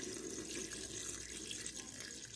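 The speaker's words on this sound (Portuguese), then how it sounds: "Agora eu vou colocar um pouquinho d'água" Water poured into a pot of Brazilian panelada stew: a steady, faint rush of running liquid with no breaks, close by and alone.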